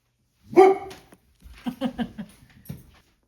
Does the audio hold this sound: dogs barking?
yes